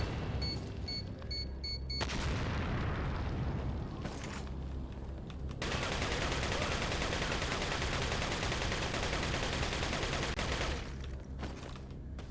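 Continuous enemy gunfire in Resident Evil 4: dense, loud, rattling bursts of shots that run almost without a break, with a short thinner stretch near the end and no voices.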